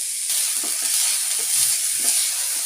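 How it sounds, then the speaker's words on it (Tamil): Chopped onion and a green chili sauté in a hot pan with oil, giving a steady bright sizzle broken by a few soft scrapes and stirs, close and alone. "ஒரு பச்சை மிளகாயும் போட்டுக்கலாம் நல்லா வதக்கி விடுங்க"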